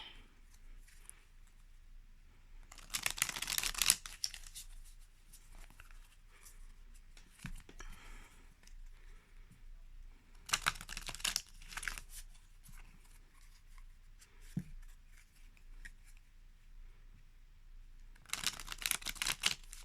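Three separate bursts of soft, papery shuffling of a new Tarot de Marseille deck, spaced well apart, each lasting about a second, with quiet room noise in between.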